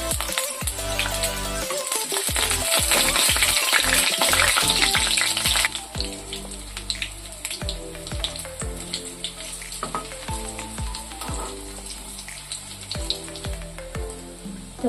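Dhoka, Bengali lentil cakes, frying in oil in a home kitchen, a loud dense sizzle at first that drops to a softer steady bubbling, with repeated clinks and scrapes of a spatula against the pan.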